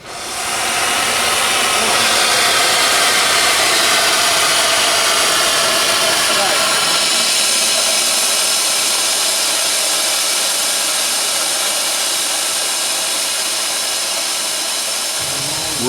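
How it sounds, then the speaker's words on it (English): A steam locomotive sits in a steaming bay at night after its holiday-lights public runs, its steam giving off a loud, steady broadband hiss that carries on unbroken for the whole stretch. "We're going to let the steam engine slowly cool down"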